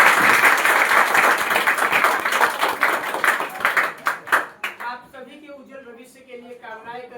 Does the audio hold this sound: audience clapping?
yes